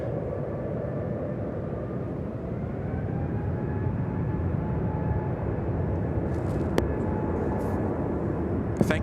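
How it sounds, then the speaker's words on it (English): An Emirates Airbus A380 airliner at Sydney Airport gives off a steady, broad engine roar that holds loud and even throughout, with a faint whine above it and a couple of brief clicks near the end. "Emirates A380. Here we go."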